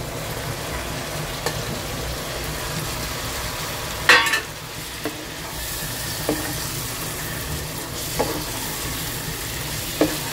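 Okra is stirred through masala frying in a pan, a steady close sizzle with occasional sharp clinks of a spoon against the pan and no voices.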